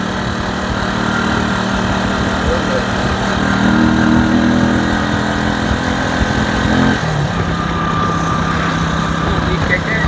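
The engine of a keke motor tricycle runs steadily and close by, its rough mid-pitched drone continuous throughout, with a shift in tone partway through. The setting is Nnewi, Nigeria.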